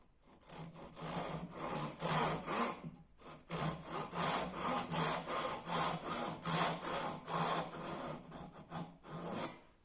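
A hand saw cuts into wood while a mallet is made, producing a steady run of rhythmic, rasping back-and-forth strokes that is close and fairly loud, with a brief pause near the start and no talking.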